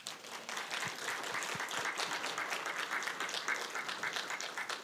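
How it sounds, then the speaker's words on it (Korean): A church congregation at a Sunday worship service breaks into sustained applause, dense and steady for several seconds with a few sharper individual claps, heard at a moderate distance. "하나님께 영광의 박수 한번 돌립시다"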